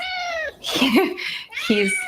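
A pet cat meows indoors, several drawn-out, rising and falling meows close to the listener, with a person's voice partly between them.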